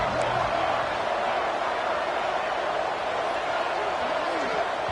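Dense, steady crowd roar fills a football stadium on a big third down, loud and continuous throughout with no break.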